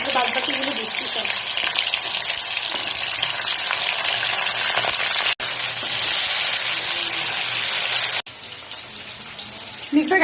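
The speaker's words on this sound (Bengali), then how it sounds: "আলু দিচ্ছি আর ফুলকপি দিচ্ছি, এগুলো আর বিনস দিচ্ছি। এগুলো দিয়ে একটু ভাজা ভাজা করে নিচ্ছি" Potato, cauliflower and beans sizzling in a pan for a vegetable navratan korma, a continuous dense hiss with stirring, fairly loud and close, with brief breaks.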